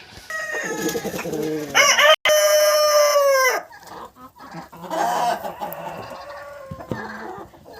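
Crested roosters crow loudly and repeatedly among other poultry, with clucking and cackling filling the gaps between the long, ringing crows in a farmyard coop.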